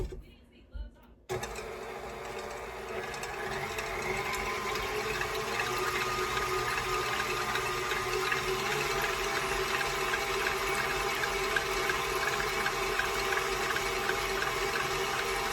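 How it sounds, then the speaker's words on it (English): Ice cream mixture with almond extract beaten until frothy for strawberry ice cream, a steady loud mechanical mixer whir that starts abruptly after a short quiet opening and runs on unbroken. "I'm just going to beat this until it becomes nice and frothy"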